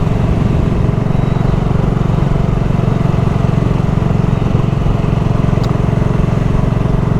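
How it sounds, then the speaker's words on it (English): A BSA Goldstar 650 motorcycle engine runs steadily, with a continuous low, pulsing drone that stays loud and close throughout, with no speech over it. "And a very characterful engine this is indeed."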